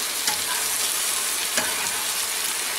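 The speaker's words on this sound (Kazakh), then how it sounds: "Міне осылай қуыра бересіздер." Steady, dense sizzling of mushrooms frying in a pan for beef stroganoff, with two brief louder crackles or stirs; no voices.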